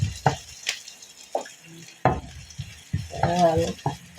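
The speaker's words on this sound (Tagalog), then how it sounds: "Oh, medyo tumatalsik-talsik po. Kaya ingat-ingat po tayo." Mung beans sauté in oil with bursts of popping and spitting splatter, separated by brief quiet gaps, and a louder crackling flurry near the end.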